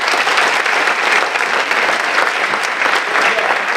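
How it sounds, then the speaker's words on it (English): Audience at a school district session breaking into sustained applause, a dense, steady wash of clapping from a large crowd, loud and continuous with no speech. "I think they deserve a round of applause"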